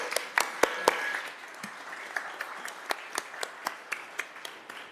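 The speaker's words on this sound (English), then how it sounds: "Let's give them all a round of applause again." Scattered applause rises in a Columbus city council meeting room, sparse individual claps ringing out at moderate distance in an irregular patter that thins as it continues.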